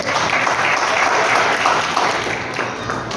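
A church congregation claps together at an evening service, a dense, continuous round of applause that stays loud and steady before easing slightly toward the end.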